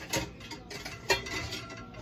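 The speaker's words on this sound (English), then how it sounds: "I have all of my pans stacked up right here." Metal cooking pans clink and clatter as one is lifted from a stack in a home kitchen, two distinct knocks amid lighter rattling, close and moderately quiet.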